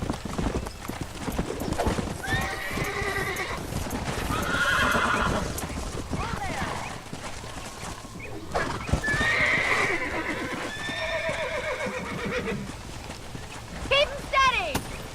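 Horses in Red Dead Redemption clopping along at a gallop with repeated loud whinnies and neighs during a cattle-herding ride, with voices talking over much of it.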